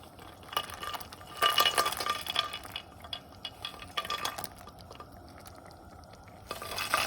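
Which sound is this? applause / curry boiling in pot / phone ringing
curry boiling in pot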